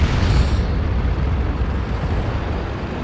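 A tank blown apart in World of Tanks, a sustained loud explosive rumble with deep low-end roar and crackle that decays slowly over a few seconds, no voices.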